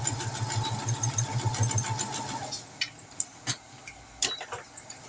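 A sewing machine stitches the open ends of a Dodgers-themed fabric weight, its motor whirring steadily for a couple of seconds before stopping, followed by scattered clicks and handling taps up close.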